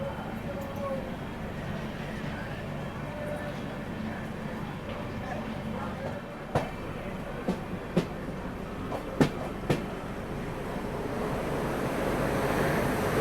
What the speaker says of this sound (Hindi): साथ में यहाँ पे हम लोग ओवरटेक करेंगे हावड़ा स्पेशल को, नई दिल्ली हावड़ा स्पेशल।